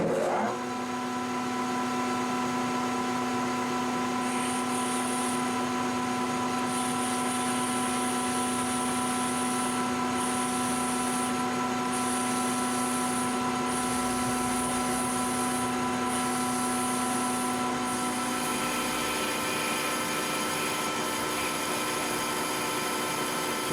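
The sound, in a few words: 5/8 end mill boring out center of tap handle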